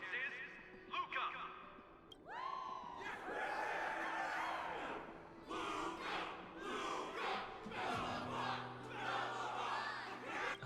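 Crowd of Belobog spectators in Honkai: Star Rail roars and cheers, rising in a loud, echoing wave after an announcer's voice and continuing under game dialogue.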